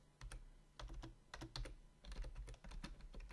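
Close, fairly quiet typing on a computer keyboard as a terminal command is entered on Linux, a quick irregular run of key clicks with short pauses.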